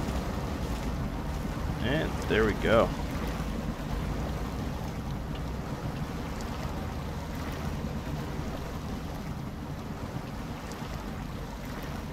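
An off-road truck fitted with a snorkel pushes through shallow water with diff lock engaged in SnowRunner, giving a steady low engine drone and watery wash throughout, with a brief voice speaking early on.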